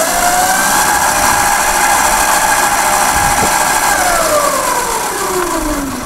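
A Gesits electric motorcycle is run at full throttle with its battery at about 80 percent, giving a steady, loud whine that rises and then falls in pitch with a chain-drive hum, alone without talk.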